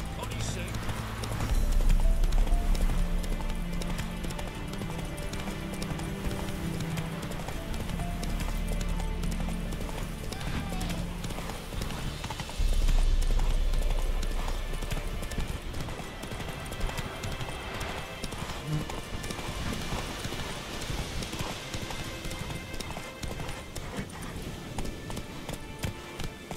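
In The Witcher 3, a horse gallops with rapid, continuous hoofbeat clip-clops across the whole stretch, briefly surging louder twice, while in-game voices speak over it.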